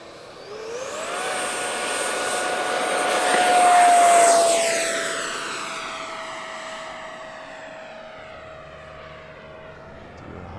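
A radio-controlled F9F Panther model jet on its takeoff run, turbine whine rising and sweeping in pitch as it passes close and loud, then fading steadily into the distance as it climbs away.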